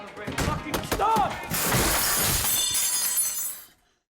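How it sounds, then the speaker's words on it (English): A radio is smashed in a fit of anger: a loud crash of shattering glass and breaking parts follows a brief shouted voice, then fragments rattle and fade to silence. "he pushed her away, his anger boiling over, and smashed the radio when its familiar music began to play"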